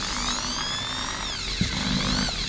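A Skil 10mm electric drill spinning at maximum speed with the trigger fully pressed, a steady high-pitched motor whine held close and loud without a break.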